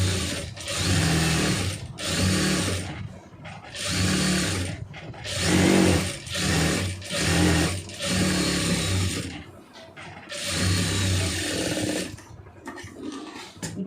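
A sewing machine stitching the lining of a designer sleeve runs in loud, close bursts of rapid whirring, stopping and restarting about seven times with short pauses between runs.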